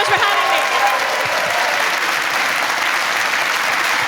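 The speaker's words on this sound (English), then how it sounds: "give a massive round of applause. Olga Koch!" A comedy audience greets comedian Olga Koch with a loud, sustained round of applause, dense and even throughout, with a voice briefly heard over the clapping near the start.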